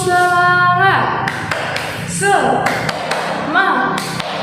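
Short rhythmic claps of a classroom 'tepuk semangat' cheer routine sound as a few sharp taps between a teacher's spoken prompts, close and moderately loud.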